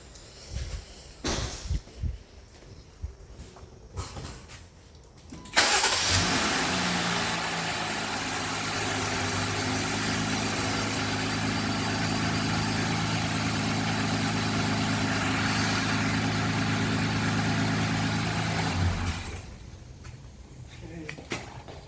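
After some clatter and brief talk, a car engine freshly filled with oil cranks and catches, then idles steadily and loudly for over ten seconds before shutting off.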